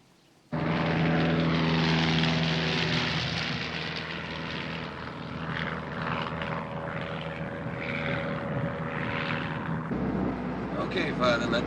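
A Cessna light aircraft engine drones steadily in flight, loud and close, a continuous propeller hum that starts abruptly and carries through, with speech partly over it.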